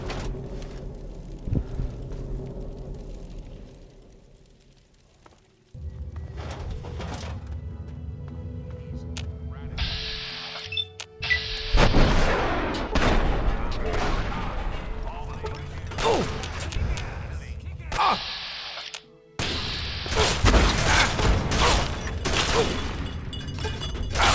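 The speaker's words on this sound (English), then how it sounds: "we could try the missile launcher" Missile launcher in Fallout 3 firing and blasting, with several loud booming explosions and mechanical clatter in bursts, separated by quieter stretches of game ambience.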